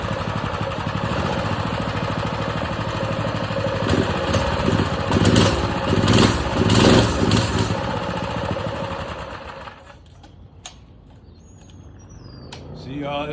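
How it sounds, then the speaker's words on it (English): A Predator 212 small engine running loud and rough with a choppy, sputtering beat that swells, then dies away, leaving quiet with faint birds before a low rumble returns. "Like if I try to turn it on without it, look, it don't start. I give it a little bit of gas."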